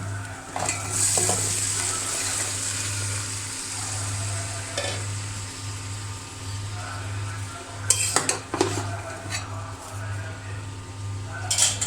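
Cauliflower and potato fry with onions in a pan, a steady sizzle running throughout while a utensil stirs and scrapes now and then, with a few clinks of metal against the pan near the end.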